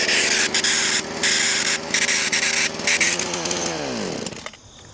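Power saw blade cutting through a steel-toe shoe, a loud buzzing, rasping grind with stuttering bursts as the blade bites, then the motor spins down and fades near the end.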